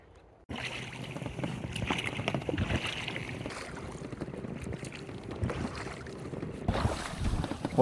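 A small boat being rowed across Lake Halove, with splashing and sloshing from rowing strokes and wind buffeting the microphone throughout.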